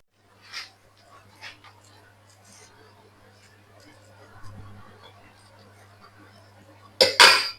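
A metal lid is set onto a cooking pot of meat kanji with rice, carrots and leeks, giving one sharp clanking rattle near the end. Before it come softer scattered clinks of utensils, and a person talks in the background.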